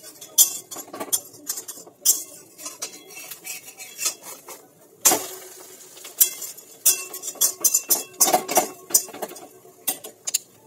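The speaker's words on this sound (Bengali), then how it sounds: "ডিমটা এক পাশে হয়ে গেছে, তো এটাকে আমরা এবার উল্টে দিচ্ছি।" A metal spatula scrapes and taps against a pan while flipping a frying egg over low gas, a run of sharp close clinks and scrapes with short pauses, no talking.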